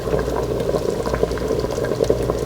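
A frozen pot roast bubbles in an Instant Pot, a close, continuous simmer of popping bubbles over a low steady hum, fairly loud and with no talking.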